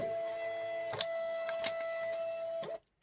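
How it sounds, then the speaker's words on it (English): A Munbyn Bluetooth label printer runs a steady mechanical whir as it feeds and refeeds a test label, with a few short clicks along the way, then stops abruptly. "It fed and refed its test label."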